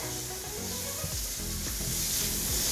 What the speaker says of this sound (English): That's our onion sauteed until it starts to brown